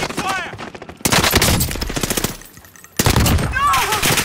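Machine gun fire in the shooter game Rebirth comes in loud, close bursts broken by a short lull, with a voice speaking in between the volleys.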